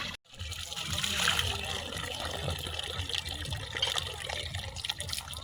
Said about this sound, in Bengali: জলটা একটুখানি টানলেই তো আসছে, ইজি আছে বেশ।